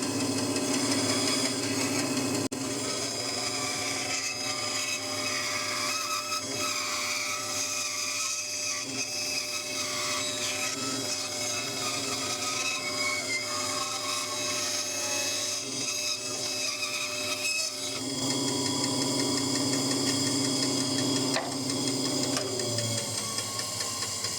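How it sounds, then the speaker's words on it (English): A bandsaw runs steadily through a piece of soft wood, cutting a straight circle for turning, its continuous whirring drone holding for the whole stretch with slight shifts in tone as the blade works through the stock. "I'll move the piece over to the bandsaw and get this nice and straight turn circle."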